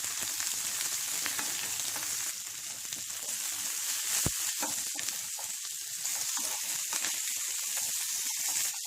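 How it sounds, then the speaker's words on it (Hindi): Chopped onion and capsicum frying hard in ghee over high flame in a karahi, a steady close sizzle throughout with occasional sharp spatula clicks against the pan. "हम इसमें डालेंगे थोड़ी सी कटी हुई प्याज और शिमला मिर्च"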